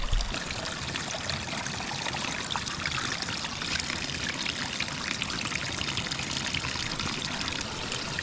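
Water from a snowmelt mountain stream on Ben Nevis trickles and splashes steadily into a container as it is filled, a continuous close rushing babble with no voices.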